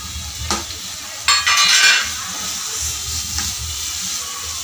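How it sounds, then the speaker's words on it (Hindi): Masala roasting in oil in a pan for dhaba-style egg masala: steady close sizzling and hissing with a few sharp stirring scrapes of a spoon, and no talk. "मसाले में तेल छूटने तक इसे भूनना है, साइड से तेल छूटने तक इसमें भूनना है।"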